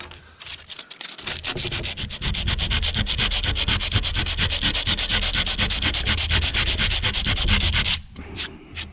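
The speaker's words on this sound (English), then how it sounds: "I've got some cheap sandpaper from the dollar store, but hey, it works." Wood being sanded by hand with cheap dollar-store sandpaper while building a shop table, a loud, rapid rhythmic rasping of back-and-forth strokes running for about seven seconds before stopping, close up with no speech.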